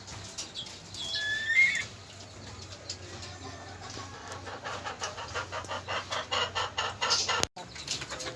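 Sebright hens at a small backyard chicken coop cluck in a quick, rhythmic series that grows steadier toward the end, close by, with a brief higher call early on and a sharp knock near the close.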